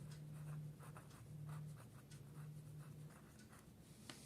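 Pen scratching across paper as English is written out in an exam answer copy, a steady close scribbling that keeps going for several seconds, soft and continuous with small pauses.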